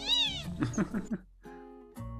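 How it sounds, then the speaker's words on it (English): A cat meows loudly and close by in a long wavering call, then gives two shorter meows after a brief pause. "There is no doubt it's a cat."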